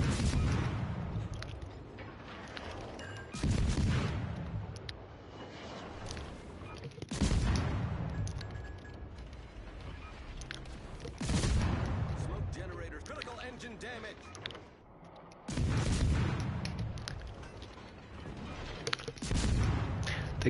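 Naval guns firing in World of Warships Legends, heavy booming salvos about every four seconds, each a loud thud with a rumbling decay; a player talks throughout.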